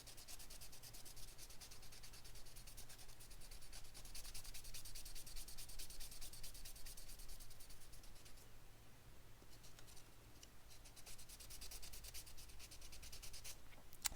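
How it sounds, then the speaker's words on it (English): A 3D-printed part for a GP3D RC10GX89 replica RC car is sanded by hand, giving a steady, close, continuous rasping rub with short strokes that carries on without pause and without talking. "as I sand it"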